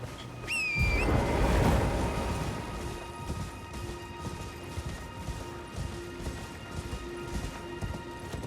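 Horse hooves gallop in the video game Elden Ring, a steady rhythmic clatter that swells early and then continues at a moderate level alongside game sound effects.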